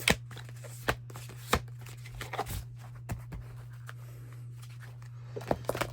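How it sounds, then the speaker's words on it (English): Tarot cards being shuffled in short riffling bursts and soft slaps, several distinct impacts spread across the stretch over a steady low hum, fairly quiet and close, no voices. "I'm shuffling them again."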